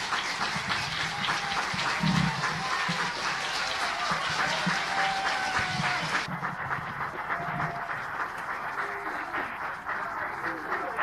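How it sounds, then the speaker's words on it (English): A crowd in an event hall gives a warm round of applause welcoming the organizer, a continuous wash of many hands clapping at moderate distance, with some low murmur and shifting background noise underneath. "We begin this event by welcoming the organizer of the event with a warm round of applause."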